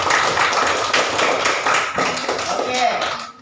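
A classroom of students claps for a classmate, a dense burst of many hands tapping together that fades toward the end, with voices mixed in.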